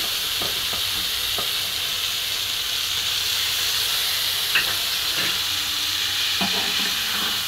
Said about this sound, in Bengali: এবার একটু নাড়াচাড়া করবো। নাড়াচাড়া করছি